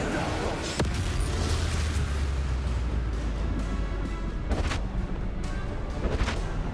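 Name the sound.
Bombarda explosion spell in the video game Hogwarts Legacy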